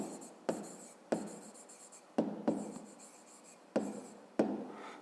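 A pen scratches across notebook paper, writing an answer in a series of short, close, quiet strokes that each start with a small tap.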